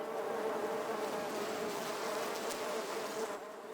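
Honeybees buzz steadily inside a hive, a dense, continuous drone of many wings holding level and close throughout, with no voices.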